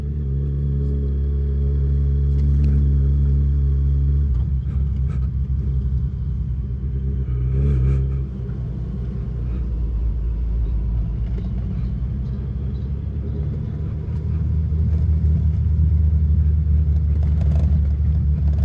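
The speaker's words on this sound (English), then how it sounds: "it's like riding a bag of bolts being shaken up down here. It sounds awful." A motorcycle rides over a rough road with loose gear rattling inside its luggage cases, a steady loud engine rumble with clattering knocks and jolts running throughout.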